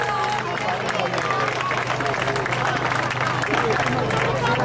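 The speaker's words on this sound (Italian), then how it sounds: "Facciamogli un applauso bello" Dense, steady applause fills the whole stretch for the Minifolk children's section of the Santa Rughe folk dance group from Orosei, at an outdoor festival in San Nicolò d'Arcidano, with crowd murmur mixed in.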